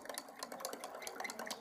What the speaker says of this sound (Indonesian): Kita tambahkan garam, terus kemudian kita aduk sampai dia